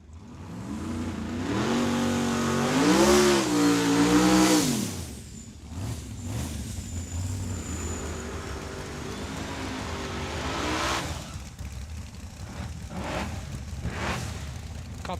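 Drag racing cars making a run down Tucson Dragway, one engine roaring loud and close as it revs up through the gears, then fading down the track while a lower engine rumble carries on afterward.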